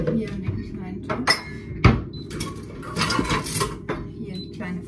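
Leftover food from the day before goes into a small frying pan to be reheated, bringing a few sharp clinks and scrapes of metal cookware at close range over a quiet kitchen background.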